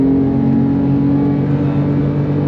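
Porsche 997.2 GT3 flat-six engine droning steadily at high load on the Nürburgring, heard from inside the car as a loud, continuous, even engine note with a strong low hum.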